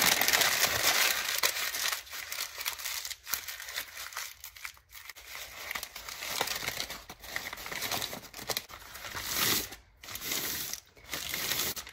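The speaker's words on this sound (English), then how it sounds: "I'm going to crumple it up" Crinkly, crackling paper lunch bag being crumpled and scrunched up close, a continuous rustle with bursts of sharper crackles, no talking.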